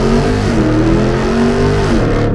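A 2022 RAM TRX truck engine revs loudly and close up, its deep rumbling tone climbing and holding before dropping back, with no voices over it.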